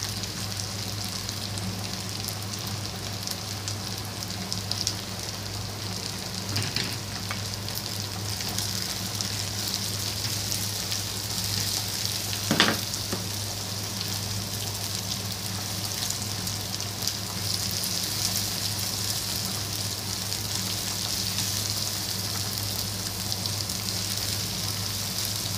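Garlic frying in a pan for an Egyptian taro dish, a steady, even sizzle running the whole time at moderate loudness, with a couple of brief clinks from a utensil and no voices.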